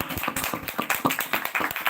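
A small group claps in quick, uneven bursts for about two seconds, close by, with no talking.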